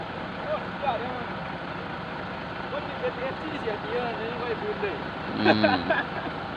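A Hino Mega truck engine idles with a steady low rumble under a voice, close by, with a brief louder flare near the end.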